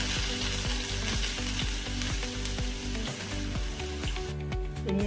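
Garlic and ginger go into hot oil with popped mustard seeds, a loud, dense, continuous sizzle running through the whole stretch with faint rhythmic mechanical ticking underneath.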